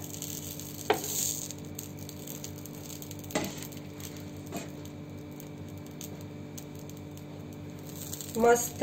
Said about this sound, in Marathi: पॅन मध्ये मी थोडंसं बटर घालते, त्यावर आपण पाव ठेवूयात